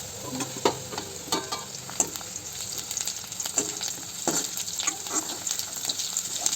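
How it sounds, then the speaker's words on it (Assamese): Onions sizzle and crackle in hot oil in a kadai, with occasional scraping stirs of a spatula against the pan, fairly quiet and close. "অলপ পিঁয়াজখিনি ভাজি লোৱাৰ পাছত অলপমান আৰু ভাজিবলৈ দিম"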